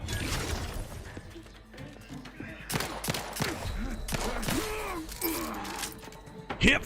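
Gunfire from hip-fired weapons in the video game The Outer Worlds 2, several sharp shots in an uneven burst among mechanical clacks and game effects, with a voice talking over parts of it.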